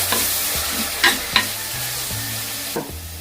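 A spoon stirs spiced sardine curry in a hot pan, giving loud scraping strokes every half second or so over a continuous sizzle of frying, with no voices.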